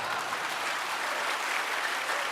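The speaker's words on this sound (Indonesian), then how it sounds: "kalau ini harus tepuk tangan, ya toh?" An audience at a national leadership meeting of Senkom Mitra Polri claps steadily, a dense, even burst of applause filling the whole moment without any talk over it.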